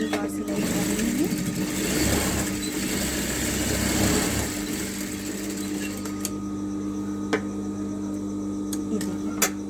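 Sewing machine stitching a gol gala blouse, a steady mechanical whir running close and continuous for several seconds, then easing off as light clicks and handling sounds follow.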